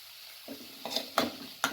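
Capsicum, paneer, peas and broccoli are being stir-fried in a pan, with a few separate scraping and clattering stir strokes over a faint sizzle, close by and fairly quiet.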